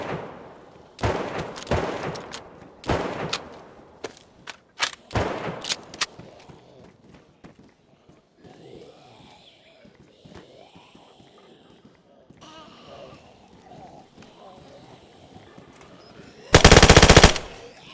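Video game gunfire while zombies are being shot: several sharp, loud bursts of automatic fire early on, quieter ambient stretches and a final intense burst near the end, with players talking over parts of it.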